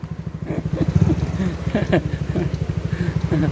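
A motorcycle engine runs at a steady idle in Arashiyama, giving a rapid, even low throb throughout while voices talk over it.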